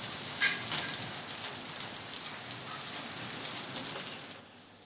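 Heavy rain falls during a hailstorm with high winds, a dense, even hiss of drops striking surfaces throughout, with no voices.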